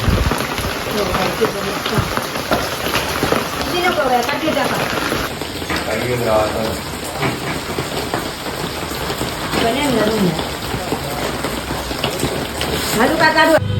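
Continuous rain pours down, a dense steady hiss of drops on surfaces, with faint voices and movement now and then beneath it.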